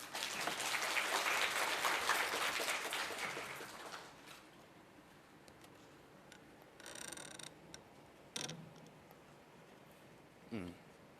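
A conference audience at a programming talk session applauds for about four seconds, a moderate clatter of hands that fades out, followed by quiet room tone with a few isolated knocks and clicks.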